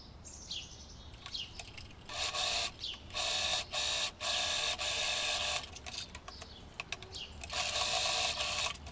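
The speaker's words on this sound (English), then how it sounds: "Let's sew them at the shoulder and on the sides." A sewing machine stitches the shoulder and side seams of a button-up summer top, running in several loud, steady bursts of whirring with short pauses between them and faint light clicks before starting.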